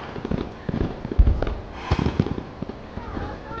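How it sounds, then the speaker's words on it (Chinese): Fireworks at a night lantern festival burst in scattered booms and crackles, with several sharper pops standing out over a steady rumbling background. "多谢你来陪我看那么美的烟花"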